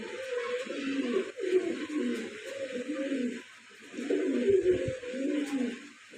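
Fancy pigeons cooing in a breeder's loft, repeated low throaty coos in steady phrases, close and moderately quiet, with a faint background hiss and no talk.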